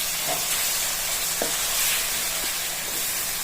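Fish curry paste stirred in a pan for Telugu-style chepala pulusu with tamarind, giving a steady soft sizzle and scraping hiss with a few faint clinks, close and continuous with no talk.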